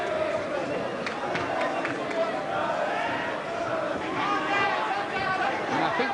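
Ringside crowd at a professional boxing match, Prince Naseem Hamed against Manuel Calvo, a steady dense murmur and babble of many voices filling the arena without pause.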